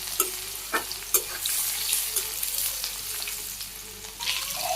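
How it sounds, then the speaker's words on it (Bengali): Chopped onions with dried chili and ground cumin sizzle steadily in hot oil as they are stir-fried, with a constant frying hiss broken by the scrape and clack of a spatula stirring the pan. "শুকনো লঙ্কা দিয়ে দিলাম, অল্প একটু জিরা গুঁটা, পেঁয়াজ কুচি দিলাম, নাড়াচাড়া করে একটু ভাজি ভাজি করে নিই।"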